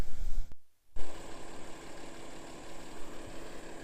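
A car engine turning over and settling into a steady idle, with a short break near the start before a constant low hum carries on alone, fairly quiet.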